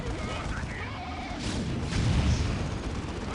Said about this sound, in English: Gunwagon continually firing